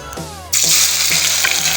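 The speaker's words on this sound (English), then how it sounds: "Transfer your oil into an already heated pot and allow to smoke." Cooking oil poured into a hot pot for spring rolls, a sudden loud broadband rush of liquid that starts partway through and carries on steadily, heard up close with no voices.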